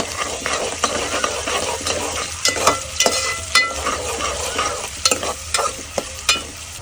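Onions frying with cumin and red chillies in a pan for dahi gathiya curry, a steady broadband sizzle broken by repeated scraping stir strokes, close and fairly loud with no talk.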